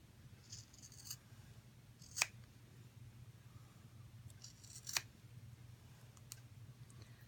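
Scissors trim around an unmounted rubber stamp in quiet, close snips. A few crisp blade closures stand out over a faint low hum, with no talking.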